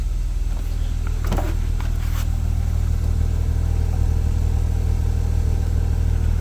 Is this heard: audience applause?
no